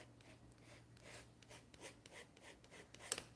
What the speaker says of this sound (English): And just that sound, the scraping, is very therapeutic.